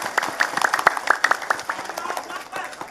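An audience claps at a Friday morning religious gathering in a village, with scattered, uneven applause for a few seconds as voices talk over it.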